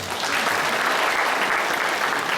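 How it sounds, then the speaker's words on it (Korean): An audience applauds a children's drama team at a church elementary-department worship service, steady dense clapping held at an even level throughout with no talk over it. "박수 한번 주십시오"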